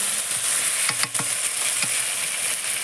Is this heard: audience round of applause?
no